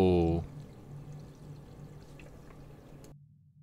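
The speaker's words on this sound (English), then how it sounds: "the person who's above me just started taking a shower" An upstairs neighbour's shower runs as a steady, muffled rush of water heard through the ceiling under a low hum. It follows a brief loud tone at the start and cuts out just before the end.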